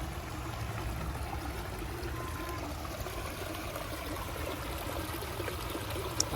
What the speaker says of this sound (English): it has a waterfall on the side.